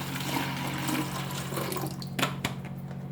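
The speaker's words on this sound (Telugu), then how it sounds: "వాటర్ పోసుకోవాలి" Water pours steadily into a jar while mango pickle is being prepared, a continuous near splashing stream ending with a couple of brief clinks.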